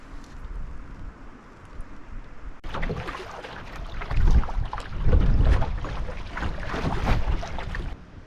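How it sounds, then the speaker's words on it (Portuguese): Strong wind buffets the microphone on a lake shore with steady roaring gusts and bursts of louder rumble, and water lapping underneath. "Tá ventando forte ainda também."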